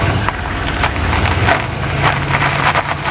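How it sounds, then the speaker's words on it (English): Car with an intercooled engine whose positraction differential has locked up, giving a harsh, continuous grinding and crackling with sharp irregular snaps, loud and close, with no one talking. "Yeah, the posi locked up."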